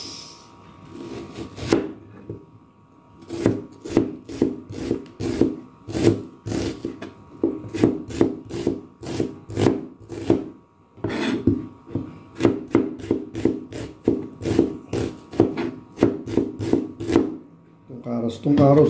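Knife repeatedly chopping onions on a wooden board while cooking chicken curry, a steady run of sharp, close taps in quick bursts with brief pauses, with some background hum.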